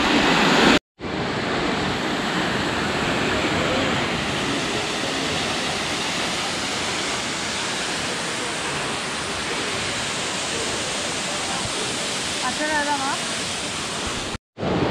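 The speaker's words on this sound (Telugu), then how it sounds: "And here comes water fall పేరేంటి? సోచిపారా వాటర్ ఫాల్స్." Soochipara waterfalls in Kerala pour with a loud, continuous broadband roar that stays steady and close throughout, briefly cut by two short dropouts, with a faint voice surfacing near the end.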